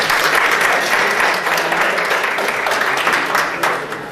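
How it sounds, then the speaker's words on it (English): A gala audience breaks into loud, full applause, many hands clapping steadily together for several seconds before the sound begins to taper. "please give them a round of applause, Dr. Suhaila Nasser."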